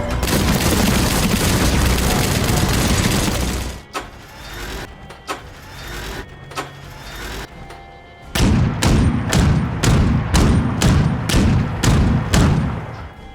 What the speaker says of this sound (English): the rev-up sound used by the turret is that of the Gatling lasers, and the firing sound is the Gatling guns